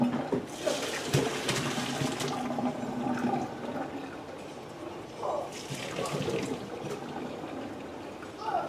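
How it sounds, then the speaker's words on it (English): Cooked sweet potatoes and their hot water tip from a heavy pot into a kitchen strainer at the sink, a sustained rushing splash that tapers to trickling and dripping, close by. "my sweet potatoes are done cooking. So let's get those in the strainer here."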